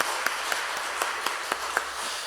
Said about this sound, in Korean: 하나님께 박수로 영광 돌리겠습니다